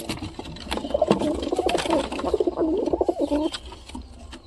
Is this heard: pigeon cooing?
yes